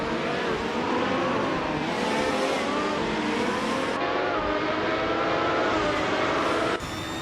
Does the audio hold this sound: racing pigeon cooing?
no